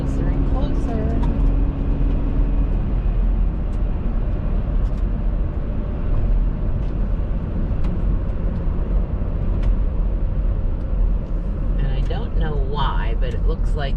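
Car driving along a road at about 40 mph, a steady continuous rumble of engine and road noise throughout, with a faint higher tonal sound appearing near the end.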